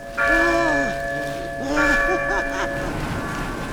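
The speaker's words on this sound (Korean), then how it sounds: "그러나 교회의 종소리가 벌레들의 관심을 돌리면서" Church bells ring in a drama scene, a loud, sustained peal of tolling tones with long ringing overtones over a steady background, swelling twice across the span.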